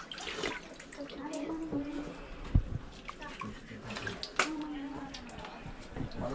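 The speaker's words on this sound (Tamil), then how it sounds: "சொட்டு சொட்டாக வடியுது." Water drips drop by drop from rock at a hillside spring on a crowded temple pilgrimage trail, soft splashes scattered through background chatter and people talking.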